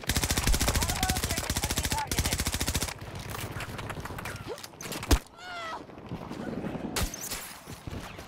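Rapid automatic gunfire in the shooter Battlefield 2042 rattles in loud, tightly spaced bursts for about three seconds, then breaks into scattered single shots and sharp impacts amid other battlefield effects.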